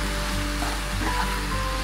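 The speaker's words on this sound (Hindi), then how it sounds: "हरा मसाला अपना ऐड करेंगे। एक दो मिनट इसको घुमाएंगे इसमें" Chicken being stirred with green masala in a hot pan, a steady close sizzle and frying hiss with faint scraping of the spoon, no voices.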